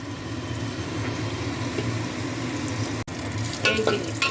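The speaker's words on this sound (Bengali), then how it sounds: "আলুটা এইভাবে লাল লাল করে ভেজে নেওয়া হচ্ছে" Potatoes frying with turmeric and salt sizzle steadily close by, with a brief dropout near the end and then a few stirring scrapes over the continuing crackle.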